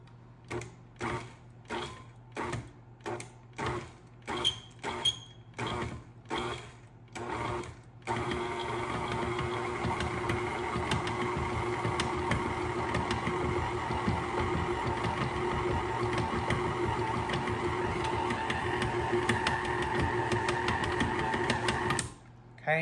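A stand mixer churns sugar cookie dough with flour, starting with short start-stop pulses and then running steadily for a long stretch before cutting off, with a voice talking over it.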